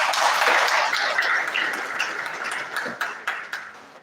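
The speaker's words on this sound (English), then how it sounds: "I think the department deserves much more applause" An audience applauds at a local governance event, dense clapping that fills the hall and then thins out into scattered claps toward the end.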